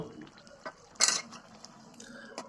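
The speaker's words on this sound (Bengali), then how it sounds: "উঠানোর পর একটু নাড়াছাড়া করে নেব" Chicken and taro curry is stirred in a pot with a spoon, giving soft scraping and clinking and one louder metallic clatter near the middle, fairly close and moderate in volume.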